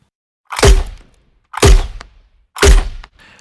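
Three heavy, booming simulated cannonball impacts land about a second apart, each a sharp low thud with a short decaying tail, loud and close against silence.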